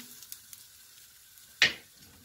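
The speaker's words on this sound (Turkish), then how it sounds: "Kıymamız kavrulmaya başladı." Minced meat being sautéed in a pan for içli köfte filling gives a low, steady sizzle with faint stirring ticks, then one brief louder hiss as the meat is turned or disturbed.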